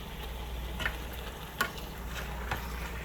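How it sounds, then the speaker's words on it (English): Five pounds of goat meat browns in a Dutch oven for curry goat, a steady close sizzle with a few sharper pops and crackles scattered through it, no voices. "Because I just put 5 pounds of meat in here. And we're going to let that sit and brown"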